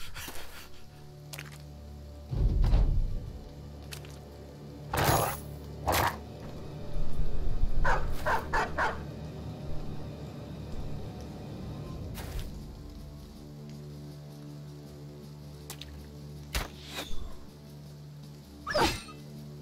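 Dogs in the Battle Brothers video game bark and whimper in scattered bursts, several sharp yelps and whines spaced across a quiet stretch with a low steady hum underneath.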